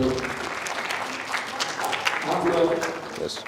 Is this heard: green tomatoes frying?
no